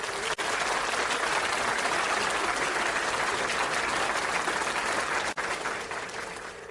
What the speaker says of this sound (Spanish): Un aplauso para eso.